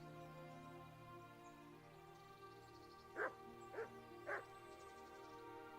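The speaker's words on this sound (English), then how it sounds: "What's that dog you have here?" A dog barks three times in a medieval game town, the yips spaced about half a second apart over a steady droning background, faint and with no talking.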